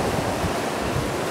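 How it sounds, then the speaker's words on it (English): Strong wind roars steadily at a beach in rainy weather, a dense broadband rush buffeting the microphone with surf-like noise and no voices. "It is extremely windy"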